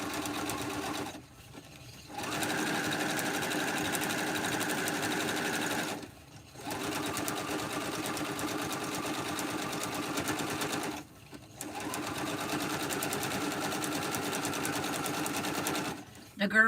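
A sewing machine stitches a pillow in long steady whirring runs broken by three short pauses, loud and close, while people talk over it.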